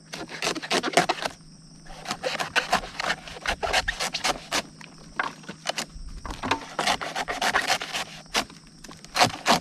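A small bolo knife scraping wood in repeated quick strokes, rasping close and fairly loud in uneven bursts with short pauses between.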